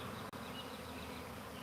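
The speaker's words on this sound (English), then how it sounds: "they try swarming twice in a day" A dense swarm of honeybees buzzes loudly and steadily, a thick, continuous hum close by.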